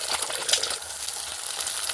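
Two eggs frying in a little mustard oil in a wok give a steady, close, bright sizzle that holds without pause for about two seconds.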